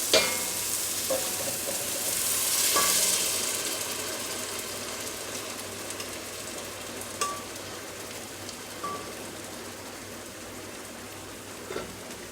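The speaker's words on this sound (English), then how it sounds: "we're going to add our blended tomato sauce" Blended tomato sauce pours into a hot pot of albondigas soup base and sets off a loud, steady sizzle and frying hiss, with light stirring clinks and scrapes near the cooktop.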